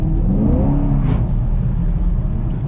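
Chevrolet Camaro SS with a six-speed manual transmission drifting, engine droning loud and close with a brief rising rev midway, then easing as the throttle lifts.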